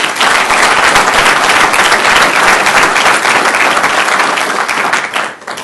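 Audience at a mayor's State of the City address breaks into loud, sustained applause that fills the hall before tapering off at the end.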